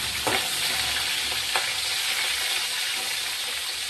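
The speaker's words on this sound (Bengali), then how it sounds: "আর আমি দুটো মতো মাথা ভেজে নেবো।" Katla fish heads frying in a pan give a steady, dense sizzle and crackle, with a couple of brief sharper pops near the start, heard alone without any talking.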